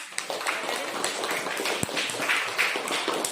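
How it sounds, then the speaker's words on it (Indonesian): Applause from a classroom group after a short practice session, dense scattered claps that sound fairly close and steady for a few seconds, with a few louder single hand claps standing out. "Oke, tepuk tangan dong."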